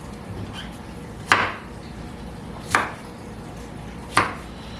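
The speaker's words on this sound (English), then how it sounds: "I'm gonna slice a few onions, rough chop" A knife rough-chops onions on a cutting board, three sharp, evenly spaced thwacks about a second and a half apart, close and crisp over quiet kitchen background.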